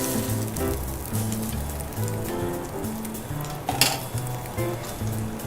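Hamburg steak sizzles in a pan, a steady close frying crackle with a soft clatter near the end, no voices.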